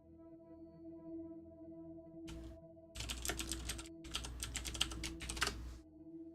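Rapid keystrokes on a computer keyboard, close and fairly quiet over a low steady hum, starting with a few taps and then two busy bursts of typing.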